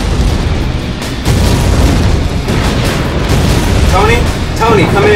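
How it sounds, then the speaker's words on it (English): Loud, rumbling explosions roar continuously in the Xbox 360 game Iron Man 2, with heavy booming blasts and brief voices breaking through near the end. "The explosions are screwing the surveillance up"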